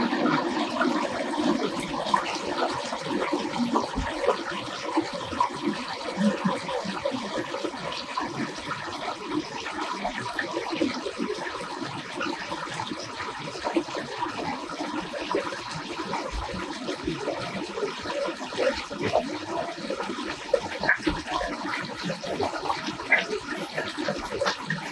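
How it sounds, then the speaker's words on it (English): Water flows out of a lake beneath a bridge in Japan, a continuous rushing wash that stays close and fairly steady throughout, with no voices. "The water came out of the lake."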